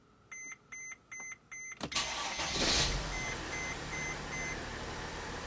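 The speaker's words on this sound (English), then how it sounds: "we're gonna start the engine so that we can confirm the customer's complaint" A Mercedes/Dodge Sprinter van's diesel engine cranks and starts after four short electronic beeps, then settles into a steady, close idle with a rough low rumble.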